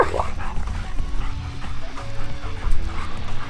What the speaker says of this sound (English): Now you got the whole neighborhood barking.